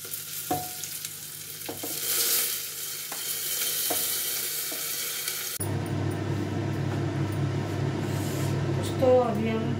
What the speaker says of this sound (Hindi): ये तेल गरम करने तक हम चावल डाल देते हैं ना।